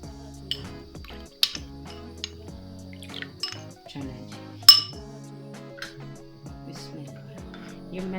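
A metal spoon clinks against a pot while cornflour dissolved in milk is stirred in, giving sharp scattered taps and scrapes at irregular intervals over a quiet background hum.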